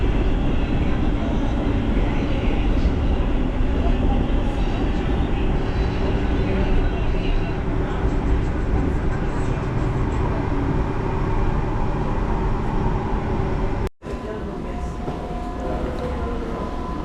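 A Barcelona metro train rumbles steadily, a loud continuous roar of wheels and motors, briefly cutting out near the end before resuming.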